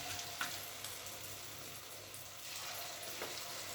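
Spiced broccoli pieces frying in oil, a faint, steady sizzle heard close up and alone, with a few light clicks and no voices.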